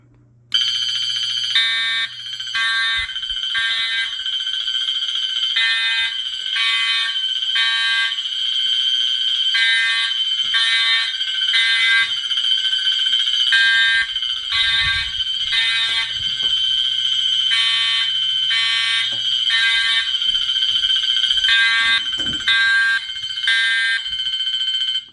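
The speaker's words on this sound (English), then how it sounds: "2 horns in a room like this is just way too much" Two Sentry fire alarm horns blare together in a small room, a loud, continuous pulsing tone that stays steady for the whole stretch with no talking.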